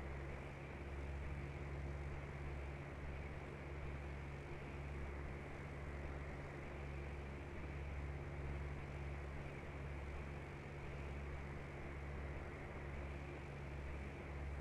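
Steady aircraft engine drone in Microsoft Flight Simulator X, a continuous low hum with a constant tone and even loudness, fairly quiet, with no talking over it.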